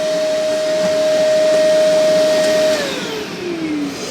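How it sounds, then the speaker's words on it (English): A vacuum cleaner hoovers the carpet inside a 1989 Honda Civic EF9 with a loud, steady whine and roar close up, its pitch sagging slightly near the end. "the little girl is doing an excellent job of hoovering the carpet"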